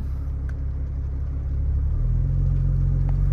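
Porsche engine pulling away in first gear on a racetrack, a low steady rumble that rises slightly in pitch and loudness as the car starts moving, close and continuous.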